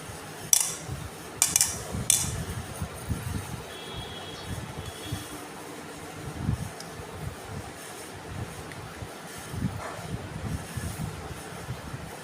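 A knife cuts rolled dough into nimki pieces on a board, making soft, irregular thuds and taps with a few sharper clicks, quiet and close, with no talking.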